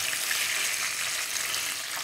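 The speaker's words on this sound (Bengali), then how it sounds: "একদিকটা ভালো করে ভাজা হয়ে গেলে পাল্টে নিয়ে অপর দিকটাও ভালো করে" Bhetki fish frying in a pan, giving a close, steady and dense sizzle that holds at an even level throughout with no pauses.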